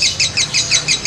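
Songbird singing the minor-type song of a competition bird being trained, repeated bright chirping phrases about every 0.2 seconds, close and loud over faint low background hum.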